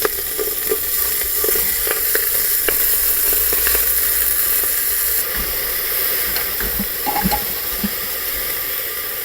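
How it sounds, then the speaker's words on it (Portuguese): Beef steaks sear in pork lard inside a pressure cooker, giving a loud, steady sizzle and spatter that runs throughout with small pops and crackles and no talking. "Coloquei um pouco de banha de porco aqui nessa panela de pressão. E esse é o momento onde que eu vou selar esses bifes."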